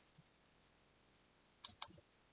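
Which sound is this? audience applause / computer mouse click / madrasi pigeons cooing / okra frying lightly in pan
computer mouse click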